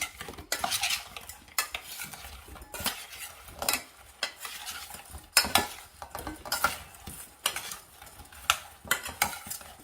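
Repeated scraping and clattering as potatoes are tossed in oil in a bowl, in irregular bursts, close and moderately loud.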